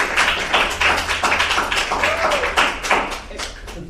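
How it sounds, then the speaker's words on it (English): An audience at a public talk gives a round of applause, with a modest crowd clapping in steady rapid claps that thin out slightly toward the end, fairly close. "Warm round of applause."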